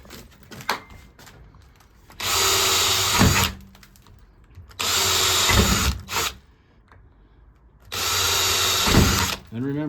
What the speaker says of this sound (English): You take a 1/8 inch drill bit and drill pilot holes.